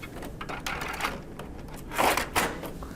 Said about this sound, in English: Replace the retransfer film cartridge